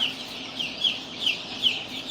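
Chickens cluck in a short run of soft, repeated calls over a low background hum in a coop of baby chicks, heard at moderate distance with no talking.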